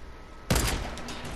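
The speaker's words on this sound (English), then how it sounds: "I sniped her" A single sharp sniper rifle shot in Fortnite cracks out loud after a quiet moment, followed by a short fading echo.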